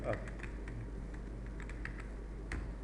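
Quick, light keystrokes on a computer keyboard, scattered in short irregular bursts at close range over a low steady background hum.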